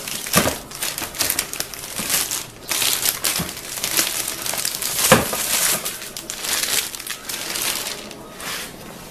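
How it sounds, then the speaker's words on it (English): Plastic bag crinkling and rustling as it is pulled over a loaf of homemade bread baked in a 13-inch tin, a busy, continuous run of close crackles with sharper bursts, no talking. "I'm using plastic bag so that the moisture doesn't"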